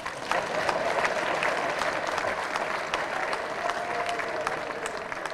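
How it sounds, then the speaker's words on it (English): Sustained applause from an audience at a formal academic investiture ceremony for the Nigerian Academy of Engineering, steady dense clapping throughout with faint crowd murmur underneath. "Clap again."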